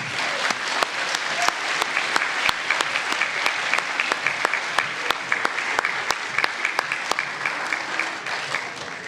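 A crowd applauds steadily for several seconds at a school end-of-year awards ceremony, the clapping dense and continuous, with a few sharper claps standing out near the front.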